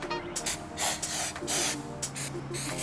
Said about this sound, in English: Spray the silicone spray around the edge